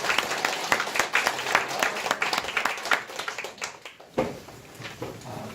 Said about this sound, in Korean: 우리 좋으신 하나님께 박수로 영광을 돌려드리겠습니다